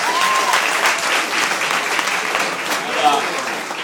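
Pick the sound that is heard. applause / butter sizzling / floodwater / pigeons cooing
applause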